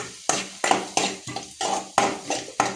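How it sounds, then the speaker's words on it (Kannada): Onion going into a hot pan for an orange peel curry, with a string of clattering utensil strikes and scrapes against the pan over a light sizzle, close and distinct. "ಇವಾಗ ನೋಡಿ ಈರುಳ್ಳಿ ಹಾಕ್ತಾಯಿದ್ದೀನಿ"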